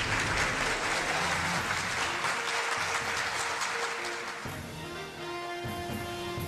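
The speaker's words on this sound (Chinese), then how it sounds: "让我们用热烈的掌声欢迎" Audience applause at an award ceremony for Chinese cultural figures, a full sustained clapping from a large crowd that thins and fades toward the end as tonal music emerges.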